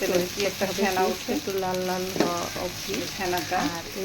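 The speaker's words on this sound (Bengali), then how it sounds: "প্যানে সরিষার তেল দিয়ে দিয়েছি" Chopped onion frying in hot mustard oil in a pan for a fish curry, a loud close sizzle with crackling bursts and stirring scrapes throughout, no talking.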